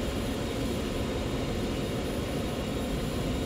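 Steady, unbroken drone from the engines of an MD82 jetliner in the Maddog flight simulator game, loud and even throughout with no changes in pitch or level.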